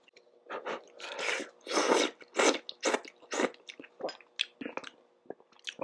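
Korean ramen, newly released imitation crab noodles, eaten up close in mukbang style: repeated wet slurps and squishy chewing bursts in an irregular rhythm, loud against a quiet background, with no speech.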